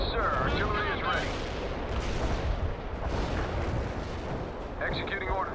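Heavy artillery barrage in the World in Conflict real-time strategy game, loud continuous booming and rumbling blasts rolling over one another for several seconds, with faint radio-style unit chatter at the start and end.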